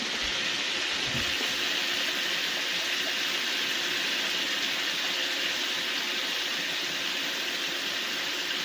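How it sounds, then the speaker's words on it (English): Tap water runs continuously over hands at a kitchen sink, a loud, even broadband splashing hiss held close throughout with no voices. "And rinse my hands real quick."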